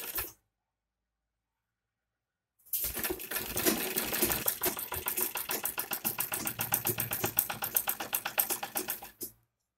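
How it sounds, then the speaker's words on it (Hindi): A sewing machine stitches fabric for a designer kurti made from leftover cloth, running in a steady rapid rattle for about six seconds after a brief burst and a long pause, loud and close with no talking. "उसको भी हम ऐसे ही सिलेंगे जैसे हम ये सिल रहे हैं।"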